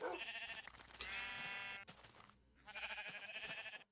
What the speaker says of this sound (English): It kills the sheep.